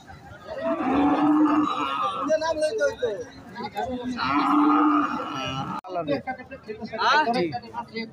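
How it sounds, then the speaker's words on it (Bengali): A red Sahiwal bull lows close by in two long, drawn-out moos, with a shorter call and nearby voices toward the end. "লাল কালারের শাহিওয়াল জাতের ষাঁড় গরু সুন্দর হয়েছে"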